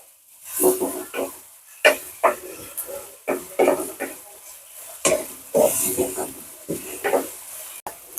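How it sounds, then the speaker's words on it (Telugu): Onion pieces fry with curry leaves in a pan for a leafy greens curry, sizzling in uneven bursts as a utensil stirs and scrapes them, close up. "ఉల్లిపాయ ముక్కలు త్వరగా వేగాలండి"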